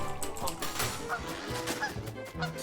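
Woodie in goose form in Don't Starve Together honks repeatedly, the cartoonish goose calls layered over busy game sound effects and music at moderate volume.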